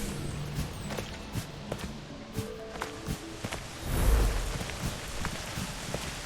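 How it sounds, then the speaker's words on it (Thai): Steady heavy rain in the video game Kena: Bridge of Spirits hisses across the whole stretch, with scattered drop taps and a brief low rumble swelling near the middle. "ฝนตกหนักเลย"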